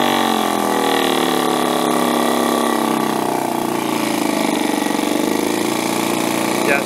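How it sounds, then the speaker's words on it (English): A 1971 Johnson 4hp Seahorse outboard engine runs steadily, a loud, continuous buzzing drone with a slight wavering pitch as the carburetor is tuned, close and without talking. "it's running, which means my compression's good, the carburetors are kind of working"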